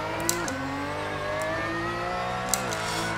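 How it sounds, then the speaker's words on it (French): A 2016 Porsche GT3 race car on the Okayama circuit in a racing video game holds a steady, loud engine drone, shifting gear with brief pitch dips and a couple of sharp clicks. "on est sur le circuit d'Okayama avec la Porsche 900 GT3 2016"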